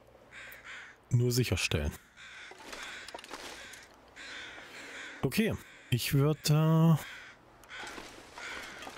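Several loud, harsh crow caws come in bursts in the foggy village of The Long Dark, a survival video game, over faint wind, while someone talks quietly in German between the calls.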